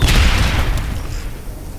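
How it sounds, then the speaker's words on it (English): A grenade explodes in Aliens: Dark Descent, a single loud, close, deep boom that rolls off and fades over a second or two. "Grenade!"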